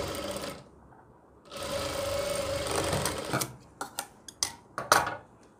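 A sewing machine stitches fabric for a girl's gown, a close steady whirring run that pauses briefly, resumes, then breaks into short stop-start bursts with metallic clicks and taps at the end.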